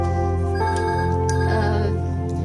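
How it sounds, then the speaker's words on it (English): A telephone rings inside a house, a steady sustained tonal ringing that stays level for the whole stretch, moderately loud with faint room noise behind it. "Again, apologies for the ringing."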